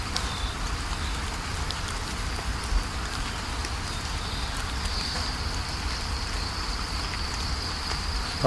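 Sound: heavy rain

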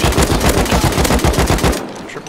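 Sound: gunshots in the video game Rust

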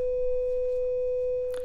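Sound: synthesizer sine wave tone

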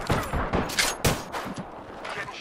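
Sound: gunfire in a video game

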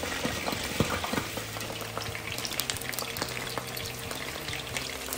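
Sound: eggs frying in a pan

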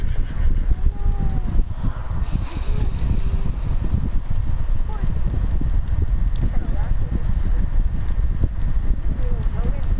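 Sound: horse hooves in video game Red Dead Redemption 2

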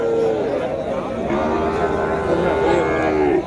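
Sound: cattle at a cattle market

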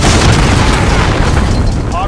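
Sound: cruise missile explosion in a video game

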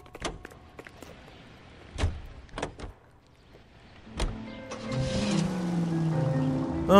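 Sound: door opening in the video game L.A. Noire

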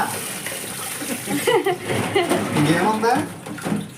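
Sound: washing crabs in water

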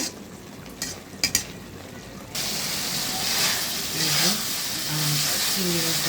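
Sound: spice paste frying in pan

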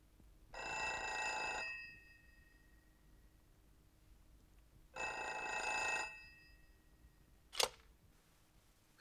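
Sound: telephone ringing

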